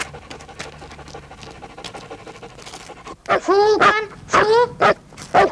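A dog pants rapidly and close, then breaks into a few loud whining, yelping barks, with people talking over it.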